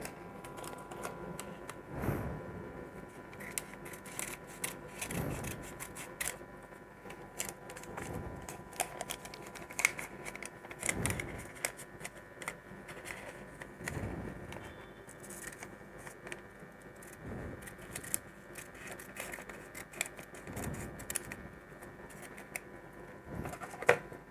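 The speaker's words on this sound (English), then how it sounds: "cut it with the help of a scissor." Scissors snip through a strip of thermal printer paper for a pocket urine chemistry analyzer, giving faint, sharp cuts repeated every few seconds over a low background hum, with no talking.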